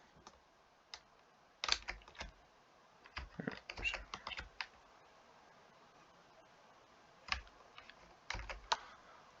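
Computer keyboard keys clicking in short clustered bursts with pauses, fairly quiet and close, while working through a Blender modeling tutorial on a street light.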